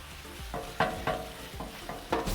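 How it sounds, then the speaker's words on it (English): Ground meat browning on a Pit Boss griddle, a steady sizzle broken by several sharp scraping, chopping strikes of a spatula against the hot flat-top, close and irregularly spaced. "So this whole process of browning and chopping will take about 5 minutes."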